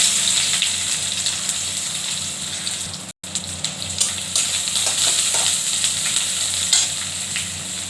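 Onion sizzles in hot oil with dry red chilli and garlic, a dense steady frying hiss with soft stirring scrapes, close up and briefly interrupted by a short cut.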